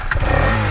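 Motorcycle engine restarted after a breakdown on a jungle trail, a loud close mechanical roar that revs and holds steady, with no talking.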